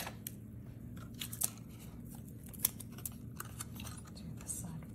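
Scissors snip through a strip of double-sided tape for a paper money card holder: a few quiet, crisp cuts and small clicks at close range over a low steady background hum.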